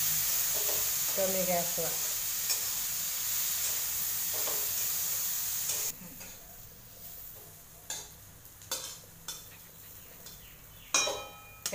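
Bitter gourd frying in a pan over low gas, with a steady loud sizzle for about six seconds. The sizzle then drops away to quieter stirring, with several sharp scrapes and clinks of a utensil against the pan and a brief spoken word.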